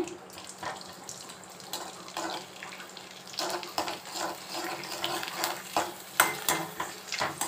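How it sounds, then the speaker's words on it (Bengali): Papad frying in hot oil in a home kitchen, a steady close sizzle with irregular crackling pops and bubbling that grow busier toward the end, no talking. "এবার দুটি পাঁপড় ভেজে রেখে দিই আগের থেকে"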